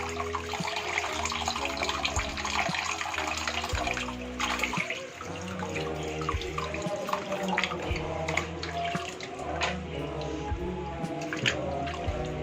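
Warm tap water streams and splashes steadily while raw chicken feet are washed by hand. The running water stays loud and continuous, with no talking.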